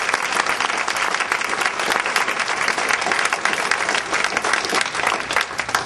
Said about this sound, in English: Would you guys please just give my team a round of applause?